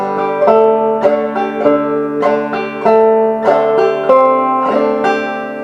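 A banjo plays the tune Skip To My Lou with a claw strum, bright plucked notes in a steady bouncing rhythm, close and clear with no voices.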